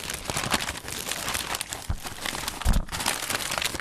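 Clear plastic evidence bag crinkles as it is handled in a courtroom, a steady close run of crackling with a couple of sharper rustles partway through.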